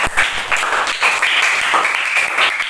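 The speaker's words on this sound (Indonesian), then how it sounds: "tepuk tangan dong untuk Akhir" Students in a classroom applaud a classmate's group performance with loud, close clapping that starts abruptly and carries on steadily, mixed with bright shouts and cheering voices riding over the hands.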